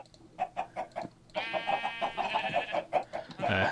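Chickens in a video game cluck in a rapid string of short repeated calls, with a busier overlapping stretch in the middle and no talking.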